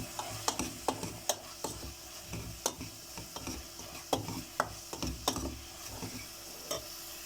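A spoon or spatula stirs creamy pasta in a pan, giving repeated soft scraping clicks at a steady, uneven rhythm with a faint sizzle beneath, close and fairly quiet.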